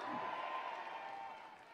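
Concert audience at a year-end outdoor music show in Gwangju clapping and cheering, a broad crowd roar with a sustained tone and voice running through it, easing off over under two seconds.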